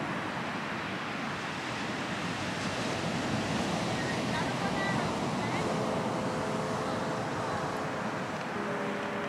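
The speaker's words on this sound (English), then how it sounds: "the waves are kind of big as well" Big sea waves at the beach in the early morning, a steady loud wash of surf and wind noise running throughout with no clear breaks.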